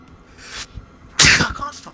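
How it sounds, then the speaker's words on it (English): A single loud, sharp human sneeze bursts out midway, preceded by faint breathy sounds and followed by a brief trailing exhale, with no talk over it. "I can't stop sneezing today"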